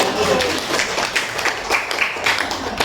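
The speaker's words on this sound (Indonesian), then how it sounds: "Tepuk tangan untuk Edi." A class of students in a school microteaching lesson claps for a classmate, a short scattered round of hands with uneven bursts and some background voices.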